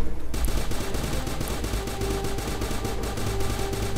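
A video-game energy gun in Starbound fires a fast, even stream of loud shots that keeps going without a break for several seconds.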